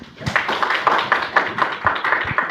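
A classroom of students clapping hands at close range, loud rhythmic bursts of claps in roughly even pulses, several hands together with some uneven timing.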